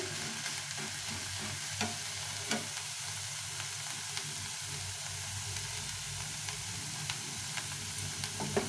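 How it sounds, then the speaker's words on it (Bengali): Milk boils and bubbles in a pan for bottle gourd payesh with a constant soft seething hiss, broken by occasional light clicks of a spoon stirring and scraping. "দুধটাকে ভালো করে ফুটিয়ে নিতে হবে আগে, একদম দুধটাকে মানে ফুটিয়ে একটু ঘন করে নিতে হবে।"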